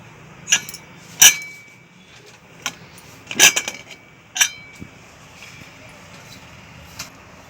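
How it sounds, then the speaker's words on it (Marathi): Metal clinks and taps as a pressure cooker lid is handled and lifted off in a home kitchen, several sharp close knocks and rattles spaced over a few seconds with quiet gaps between. "आता आपण कुकरचे झाकण काढून बघू।"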